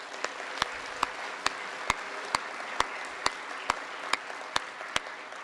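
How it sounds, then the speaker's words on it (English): At a school ribbon-cutting ceremony, an audience applauds a junior ROTC team through a continuous, fairly quiet patter of claps. Sharp, evenly spaced loud claps stand out on a steady beat above it. "let's give a round of applause to the junior ROTC team"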